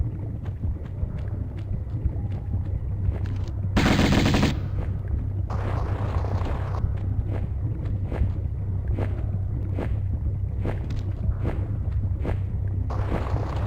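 Rapid gunfire from a weapon in the video game Tomb Raider, repeated sharp shots at a regular pace over a low droning background, with one short burst of harsh noise partway through.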